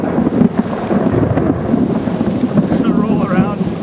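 Thunder rumbles low and steady through a rainy backdrop, a continuous deep roll with a faint high chirping near the end.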